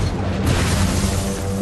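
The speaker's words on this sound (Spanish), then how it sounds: "El 88 de repente abre fuego." Loud, dense blast from a German 88 gun opening fire, a sustained roaring boom with heavy low rumble and crashing debris, no talking.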